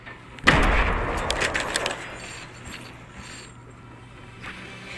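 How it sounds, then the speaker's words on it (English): A submachine gun in Fortnite mobile lets off a short, loud burst of rapid shots close by, lasting about a second and a half, followed by quiet mechanical clicks and low background hum. "Alright, submachine gun works."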